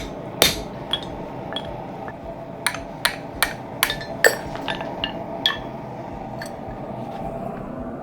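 A chasing hammer drives a punch into metal in a dozen sharp, ringing taps at uneven intervals. The strikes come close and clear over a low, steady background hum.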